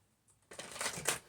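Tarot cards shuffled by hand in a quiet room, a faint soft riffle at first and then a close, steady papery flurry of card friction lasting about a second before fading.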